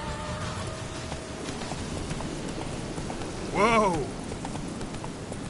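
Roach, the horse in The Witcher 3, gallops with a steady rhythm of hoofbeats under continuous rain-like noise, and a voice briefly calls out.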